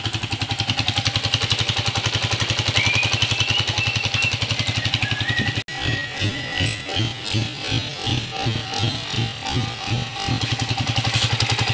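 A Honda TMX 155 motorcycle engine with a newly replaced timing gear runs loud and close, first as a steady rapid idle and then, after a brief cut, as a lumpier, pulsing beat that rises and falls in rhythm.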